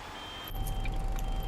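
Repeated electronic reversing beeps sound from a bus in the OMSI 2 bus simulator game, steady and evenly spaced over a low engine hum with a faint hiss of air brakes.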